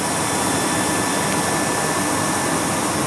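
A 1985 Carrier 58GP gas heater, one of a twinned pair rated at 125,000 BTUH each, runs with a steady, loud broadband roar of burning gas, constant from start to finish with no talking.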